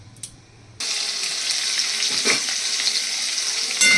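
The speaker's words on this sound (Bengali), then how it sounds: "এবার আমি এই আলুটাকে ভালো করে ভেজে তুলে দেবো।" Chopped potatoes frying in a little oil, with a low tap-like clatter at first before a loud, steady sizzle starts and holds close up, with occasional stirring scrapes.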